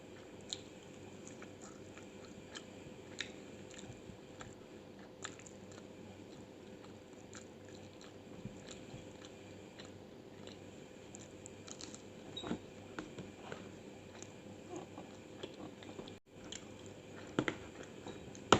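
Blanched caper flowers being chewed while tasting, a faint, steady run of soft close mouth sounds and small bites in a quiet kitchen.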